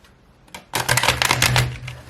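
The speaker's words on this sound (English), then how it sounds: "Let's do the first shuffle, shall we?" A quick burst of crisp, rapid card flicks from a stiff, laminated tarot deck being shuffled, close up, lasting about a second.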